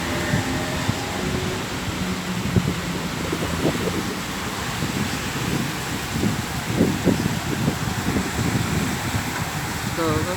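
A cool wind gusts on a rainy afternoon in Villa Carlos Paz, Argentina. It makes a steady, loud rushing roar with buffeting against the microphone, and voices talk faintly beneath it.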